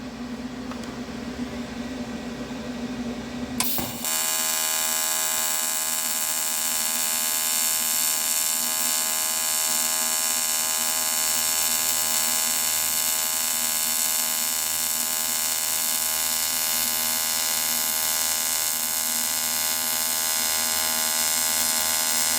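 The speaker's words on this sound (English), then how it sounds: "I'm going to try to just get a little puddle going and then just dab. I'm just going to weld like an inch" Stick welding at 65 amps to start a small puddle on an inch-long bead: a low hum gives way to a sudden loud, steady, hissing crackle that holds for nearly twenty seconds, close and alone.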